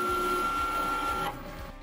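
A Cricut Maker cutting iron-on heat-transfer vinyl makes a steady mechanical whir with a faint tonal hum, running close and continuous before dropping away near the end.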